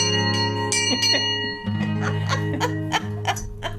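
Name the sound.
bell ringing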